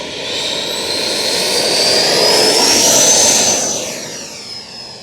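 Freewing de Havilland DH-112 Venom V2 RC model jet taking off, a loud ducted-fan whine that swells as it passes close and then fades with a falling pitch as the plane climbs away.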